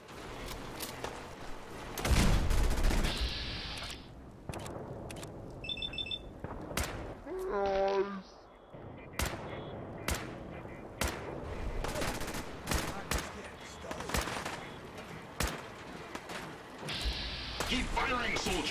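Turret and cannon gunfire during a Fallout 4 battle: dense, rapid bursts of shots and heavy blasts fill the scene, with a rising electronic alarm tone briefly in the middle and game voices mixed underneath.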